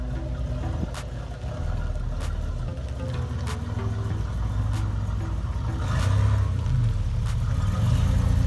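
Engine of a 1987 Buick Regal Turbo T on 24-inch Forgiato wheels, a steady mid-pitched drone that swells gradually as it revs, with sharp clicks and taps recurring over it.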